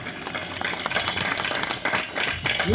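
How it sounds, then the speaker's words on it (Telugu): A church congregation claps together during a worship service, producing a dense, continuous, fairly loud patter of many hands with some voices mixed in. "చప్పట్లు కొట్టండి."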